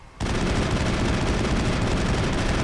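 Sustained, dense gunfire from the Mass Effect video game, a continuous loud roar of rapid shots that starts abruptly after a brief quiet moment and holds steady to the end.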